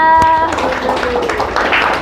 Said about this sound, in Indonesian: Tepuk tangan buat Dila